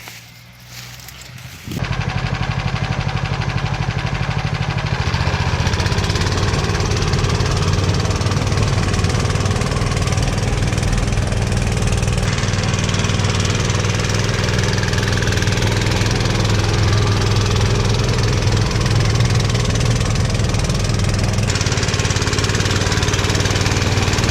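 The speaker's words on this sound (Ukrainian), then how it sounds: "Побачимо, як наш моторсіч з цим всім впорається." A Motor Sich walk-behind tractor engine runs steadily and loudly while tilling a field of mustard in midsummer, a continuous close chugging drone after a brief quieter start.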